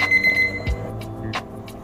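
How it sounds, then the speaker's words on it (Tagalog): An alarm clock rings with short repeated bright beeps, fairly close, while faint background noise and a low thud sound around it. "nakalam na yung aking alarm clock"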